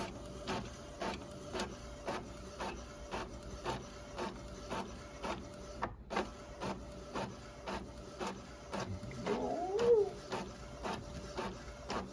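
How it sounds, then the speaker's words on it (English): An inkjet printer prints sublimation sheet designs with a steady, regular rhythm of clicks and carriage passes, quiet and close, with a brief chirping sound near the end. "And we're gonna send it to our printer."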